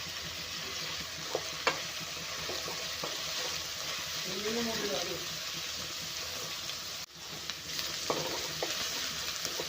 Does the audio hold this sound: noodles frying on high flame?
yes